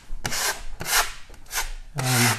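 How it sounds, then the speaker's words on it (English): Putty knife scraping wall filler off a painted wall in four firm rasping strokes, each a short broadband swipe with brief pauses between, close and alone. "you can see I'm wiping it all off"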